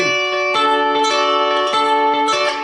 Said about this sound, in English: plucking the 1st and the 3rd string, and then coming over plucking the 2nd and the 4th